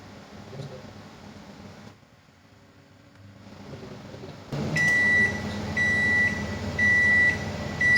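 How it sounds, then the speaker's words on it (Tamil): A microwave oven hums steadily while preheating for a homemade vegetable cheese pizza, then gives a series of clear, bright beeps as the preheat ends, close and fairly loud. "ப்ரீ ஹீட் முடிஞ்சு நம்மளுக்கு பீப் சவுண்டு கேட்டுச்சு"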